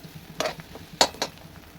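Sabudana khichdi ingredients, potatoes, crushed peanuts and chili, are stirred and sautéed in a kadhai, giving a few quick, faint scraping stirs over a soft sizzle in a brief, quiet moment.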